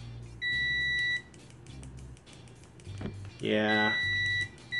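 A RICHMETERS 900A multimeter gives short electronic continuity beeps in repeated bursts from default stock test leads, with brief talk nearby.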